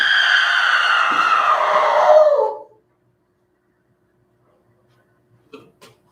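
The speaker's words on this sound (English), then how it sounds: "Did you not hear that scream?" A piercing, sustained scream rings out loud and close for about two and a half seconds, sliding downward before cutting off into silence, followed by a couple of faint distant clicks.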